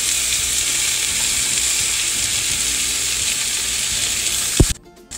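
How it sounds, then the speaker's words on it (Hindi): Okra and onion fry in a pan over a low gas flame, a steady broadband sizzle holding throughout, then a sharp clatter near the end as the sizzle drops away abruptly. "थोड़ी देर इसमें हम भिंडी को भी स्लो गैस पर भूनेंगे।"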